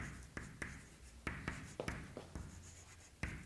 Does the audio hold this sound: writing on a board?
yes